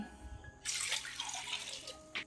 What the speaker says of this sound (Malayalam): ഇത് വേകാനുള്ള വെള്ളം കൂടെ ഒഴിച്ചു കൊടുക്കാം